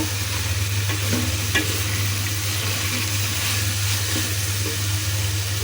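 Steady sizzling and frying of dried chillies in a pan, with a few faint stirring scrapes over a continuous low hum, close and fairly loud throughout with no talking.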